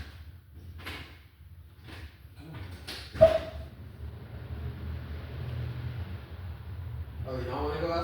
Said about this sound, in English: I'll open the door to outside for